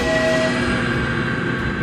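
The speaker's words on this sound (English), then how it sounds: "train!" A train rumbles past loudly and close in a continuous heavy roar, with a brief high horn-like tone near the start and no voices over it.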